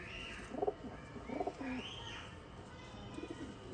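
Soft, low coos of Sialkoti breeder pigeons repeat a few times in short throaty phrases, faint and somewhat distant over a quiet background hum.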